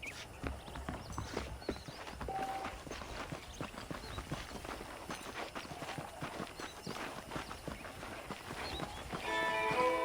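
Horse hooves clip-clop steadily at a walking pace in the video game Red Dead Redemption, close and continuous, with faint ambient background sounds throughout.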